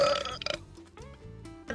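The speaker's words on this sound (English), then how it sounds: "Logan, can I burp in your mouth?" A loud, drawn-out belch rumbles for nearly two seconds, with a brief dip midway before a final gurgling push; no talking over it.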